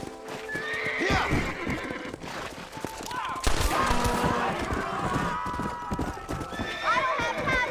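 A horse in the video game Red Dead Redemption gallops with rapid hoofbeats and lets out loud whinnies, set against game ambience and other noises, with voices speaking over it.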